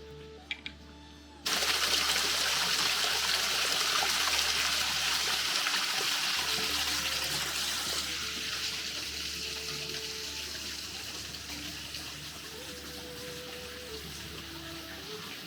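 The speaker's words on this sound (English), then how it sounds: "I've got another set of flowing water that's feeding this little, well, I don't know what to call it" Water runs steadily into a small trough at the ancient site of Smyrna in Turkey, a continuous outdoor splashing and trickling that fills the whole stretch, with a faint voice in the background.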